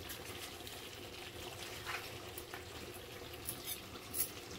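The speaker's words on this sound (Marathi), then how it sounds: "पाणी सुद्धा गरम झालेलं आहे आपलं. आता आपण याच्यामध्ये ते ओतून घेऊया" Quiet, steady hot water pouring and trickling into a pot of chicken curry, faint and close, with a few soft clinks and no talking.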